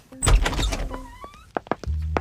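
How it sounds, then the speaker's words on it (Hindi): The main door of a house thunks and slides as it is opened, a few knocks and scrapes of wood and metal at close range, followed by a low rumbling thud. "खुद को संभालते हुए घर का मेन दरवाजा खोलने के लिए गई"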